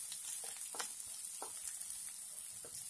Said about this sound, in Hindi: प्याज को हम लाइट गोल्डन ब्राउन होने तक पकाएंगे